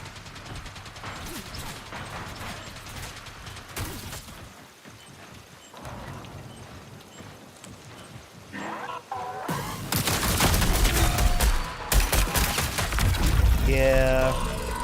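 Automated turrets in a video game open up in bursts of rapid gunfire, loud and dense, with mechanical clatter between volleys and explosive crashes near the end.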